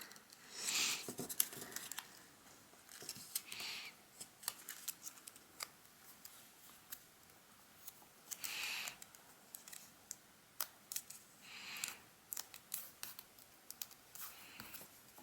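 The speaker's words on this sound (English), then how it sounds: "I'm gonna first fold this in half, and then also fold it in half the other way." Paper being folded in half and creased for an origami buck, heard as soft scattered crinkles, rustles and sharp crease clicks, close and fairly quiet, with no talking.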